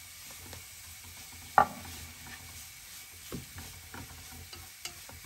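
Quiet, steady sizzle of carrots frying in oil for borscht, with an occasional clink or scrape of stirring, one sharper knock standing out early.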